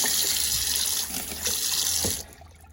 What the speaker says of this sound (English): Water's running here.